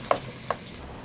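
Carrots stirred in a hot pan, two short scraping stir strokes over a faint background sizzle, close and quiet with no talking.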